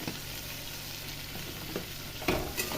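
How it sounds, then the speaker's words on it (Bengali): Spices being stirred in a frying pan of hot oil, a steady sizzle with occasional spoon scrapes and a louder clatter near the end, heard close with no talking. "ভালো করে নাড়াচাড়া করে"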